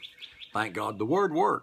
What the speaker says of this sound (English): You might hear the birds singing in the background